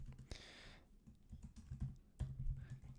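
Typing on a computer keyboard while entering a font name into a CSS file, a quiet, close run of uneven key clicks with a brief louder clack partway through.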